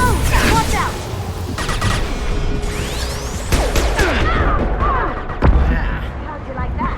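Gunfire and impacts in the Mass Effect 2 video game, a dense run of shots, bangs and crashes through a combat scene, with voices talking over the fighting.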